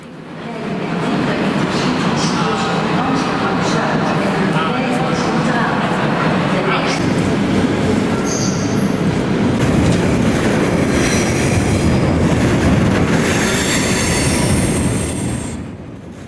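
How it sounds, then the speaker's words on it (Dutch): A GoVolta passenger train departing toward Bad Bentheim rolls past close by, loud rumbling and rattling wheels with squeals, building in and fading out over about fifteen seconds. "mooi op tijd vertrekt de trein 327, de allereerste trein van Go Volta richting Bad Bentheim"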